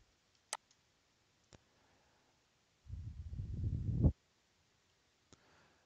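Computer mouse clicks sound as a few faint, sharp, isolated ticks in a quiet room, with a brief rustling burst of handling noise in the middle.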